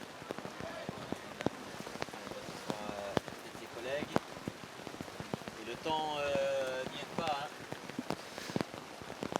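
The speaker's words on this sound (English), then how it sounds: "The rain on our canopy getting heavier." Heavy rain drumming on the canopy over a football commentary box during a match between New Caledonia and Vanuatu, a dense patter of sharp drops with voices and a tonal sound from the surroundings mixed in underneath.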